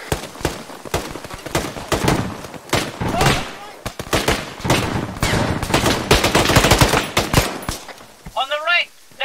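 Machine gun fire in Arma 3 during a STALKER mission: dense, rapid bursts of loud, close gunfire crackling almost nonstop, with a brief voice near the end.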